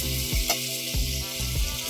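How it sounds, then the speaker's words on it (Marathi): Steady, close sizzling of chopped green garlic frying in hot oil for a mixed greens dish, with a few soft scrapes of a spatula stirring the pan. "हे छान परतून घ्यायचे ते मस्त खमंग अशी फोडणी आपल्याला या फतफद्याला द्यायचे"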